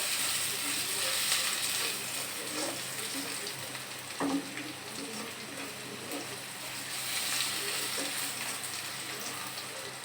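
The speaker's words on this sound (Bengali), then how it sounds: "এখন দিয়ে দিব আদা কুচি। এগুলাকে আমি ব্রাউন করে ভেজে নিব।" Chopped ginger frying until brown in a pot alongside chopped garlic, a continuous soft crackling sizzle with occasional stirring knocks, one sharper clack midway.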